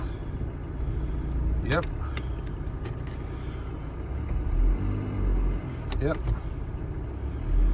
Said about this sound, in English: I just want to test to see if I can get gears.